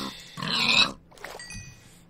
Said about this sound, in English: I don't know where these pigs keep coming from. These are water pigs.